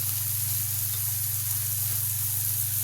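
Tomatoes cooking in a pan with spices sizzle in a steady, close, bright hiss that holds evenly throughout with no voices.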